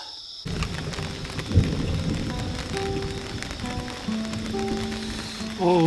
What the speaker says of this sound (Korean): 비가 오기 시작하네요. 천둥이 바로 앞에서 칩니다.